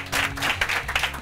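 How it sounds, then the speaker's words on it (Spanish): A studio audience on a Spanish-language comedy show bursts into brief applause and cheering, a loud, dense burst of clapping with a few sharper claps rising near the end. "Un aplauso para él que sigue aquí."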